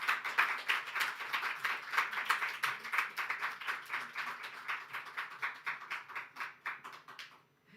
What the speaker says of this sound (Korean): 선교사님 나오실 때 박수로 환영해 주십시오.